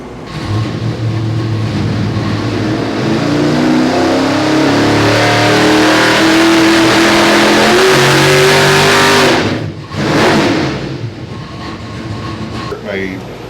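A nitrous-fed 632 big block engine roars through a sustained pull on a dyno, loud and close, its pitch climbing steadily before it cuts off abruptly, followed by a brief second blip.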